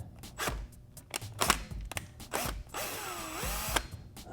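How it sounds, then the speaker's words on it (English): A power drill with a hole saw bites into a 2013+ Honda CBR600RR motorcycle fairing in short bursts, whining and grinding loudly, with a longer sustained cut near the end. "I'm going to place my pilot drill for this saw in the hole that I created as the pilot hole"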